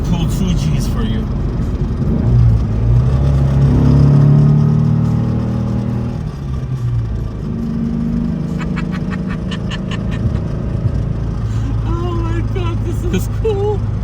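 An air-cooled 1964 Porsche 356 pulls hard under acceleration, its engine note climbing and then easing off as it shifts, heard from inside the car with a voice talking over it.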